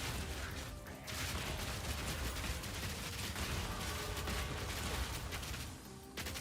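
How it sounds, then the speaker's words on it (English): Rapid crackling explosions from an attack build in the action RPG Path of Exile 2, a dense, continuous barrage of loud bursts and mechanical clatter with no pauses, set over a low rumbling game score. "these explosions are just eliminating everything"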